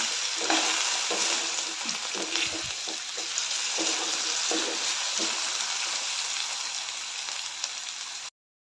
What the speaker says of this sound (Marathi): बटाट्याचे काप चांगले लालसर होईपर्यंत फ्राय करून घेऊया